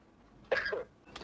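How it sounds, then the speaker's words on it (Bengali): A patient gives a single short, sharp cough on request during a medical examination, close and fairly loud, then a fainter second burst of breath after a pause. "একটু জোরে কাশি দেন।"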